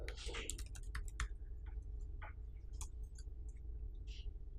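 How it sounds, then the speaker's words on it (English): Keys clacking on a computer keyboard, a quiet, irregular run of sharp taps with brief pauses between bursts, close but faint. "This I will have to type."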